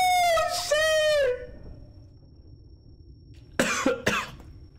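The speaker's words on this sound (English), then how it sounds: "That shit made me cough." Two sharp, close coughs come in quick succession near the end of the clip, following an earlier tonal, voice-like sound and a quiet stretch.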